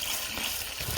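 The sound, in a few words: pouring acid peroxide gold recovery solution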